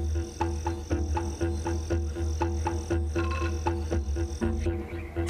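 Marine toad calling in a South American setting, a steady low trilling croak repeating in regular pulses, loud and continuous with chorus-like layering and no talk.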